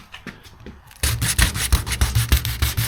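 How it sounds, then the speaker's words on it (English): Abrasive scuffing of a 1976 BMW 2002 car body surface before repainting, a close, rhythmic back-and-forth rubbing in quick strokes that starts after a quiet moment. "It doesn't take much to scuff this up."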